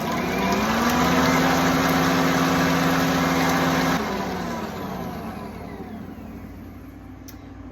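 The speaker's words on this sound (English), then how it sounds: "Turn on your mixer." An electric mixer on high speed whips egg whites in a clean mixing bowl, a steady loud motor whine that eases to a softer, lower hum about halfway through.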